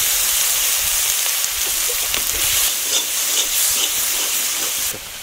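Masala with ginger and green chili paste and tomato paste fries for a vegetarian cauliflower roast, a loud, steady, close hiss of sputtering oil with faint crackles that drops slightly at the end.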